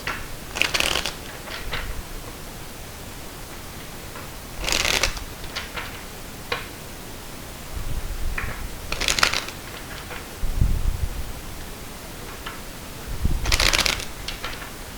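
Tarot cards are shuffled in several separate bursts of quick riffling and flicking, close and crisp, with short pauses of quiet between them and no talking.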